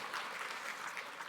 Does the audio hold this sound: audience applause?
yes